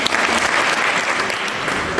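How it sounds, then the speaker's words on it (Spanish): An audience at a PSC-PSOE youth congress applauds a speaker, a dense, steady round of clapping that fills the whole short stretch at full loudness. "Un aplauso para él."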